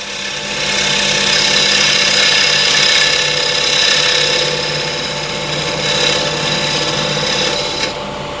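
A small skew chisel cuts a large maple bowl spinning on a wood lathe, giving a steady, loud scraping hiss with a constant motor hum that runs unbroken for the whole stretch.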